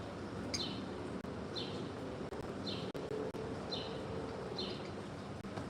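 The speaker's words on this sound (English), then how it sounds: "at least the birds are chirping" Birds chirp outdoors in a steady bed of background noise from nearby lawn care, with short repeated calls at regular intervals, faint to moderate and somewhat distant, and no talking.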